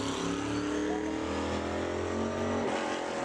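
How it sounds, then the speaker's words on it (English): The number 41 modified race car roars past on the Bowman Gray Stadium track during qualifying, a loud, sustained engine drone that shifts in pitch as it passes. "Now, here comes another car out of the Myers camp."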